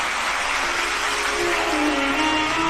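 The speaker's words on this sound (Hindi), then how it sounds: "प्रणाम करते हुए जोरदार ताली बजाकर स्वागत करें।" Audience clapping loudly to welcome a revered saint at a Hindu religious discourse gathering, a steady dense wash of applause filling the hall without a break.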